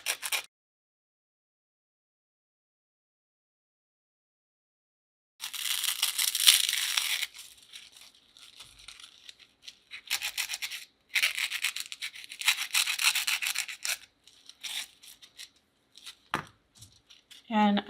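Scissors or a blade cut a rectangle out of a fake Twinkie, giving crisp, scratchy cutting and crunching bursts close up, separated by short pauses after an opening silence.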